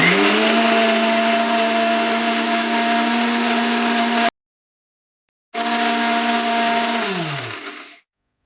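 A mixer grinder grinds soaked dal with garlic cloves in two loud, steady whirring runs separated by a brief silence; the second run winds down in pitch as the motor stops.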